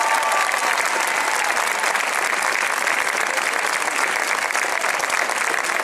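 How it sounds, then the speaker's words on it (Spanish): Sustained, dense applause from an audience at a town festival proclamation, honoring a multiple-time Spanish swimming champion and European runner-up, steady and loud throughout with no pauses. "Un aplauso para él, por favor."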